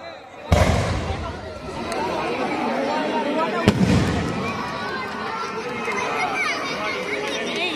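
Fireworks burst across the night sky in two sharp booms followed by crackling and rumbling echoes, while a crowd chatters and a voice speaks throughout.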